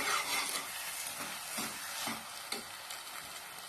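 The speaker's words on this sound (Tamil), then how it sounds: "இது எல்லாத்தையும் ஒரு கலந்து விட்டுக்கலாம்" Pumpkin halwa being stirred in a pan, with a steady scraping, rubbing rhythm and a soft sizzle underneath, close and continuous with no talking.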